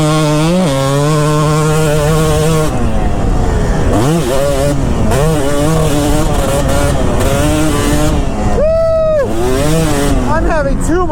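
A Kawasaki KX250 two-stroke dirt bike is ridden hard, its engine close and loud, revving up and down in quick surges with brief drops between throttle bursts.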